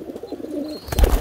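Pigeons coo softly in a loft, low throaty warbling calls running close and steady for about a second, ending in a burst of rustling or wing flutter.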